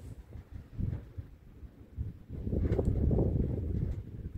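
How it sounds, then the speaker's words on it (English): Outdoor gusts buffet the microphone in low, rumbling bursts that build into a steady, heavier roar for the second half, with no talking. "Sorry about this wind again"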